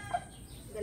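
Two hungry hens outdoors give a few short, soft clucks just before feeding, faint and close against a low background hum.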